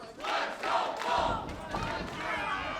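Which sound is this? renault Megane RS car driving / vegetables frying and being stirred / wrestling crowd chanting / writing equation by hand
wrestling crowd chanting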